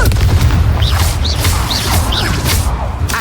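A Confringo spell explodes in Hogwarts Legacy with a loud, deep booming blast followed by rumbling crashes and a series of chirping swooshes, dense and close throughout.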